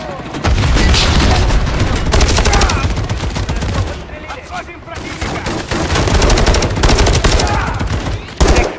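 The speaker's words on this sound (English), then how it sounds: "got a mounted MG coming your way on an armored vehicle" Sustained machine-gun fire from a gun mounted on an armored vehicle in the Call of Duty: Modern Warfare III campaign, a loud, dense chatter of rapid shots with booming impacts and brief lulls, mixed with battle noise and faint voices.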